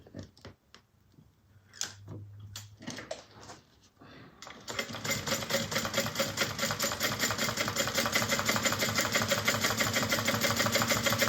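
A sewing machine top-stitching a fabric bag, starting with a few scattered clicks and handling noises, then running in a loud, continuous rapid chatter close by.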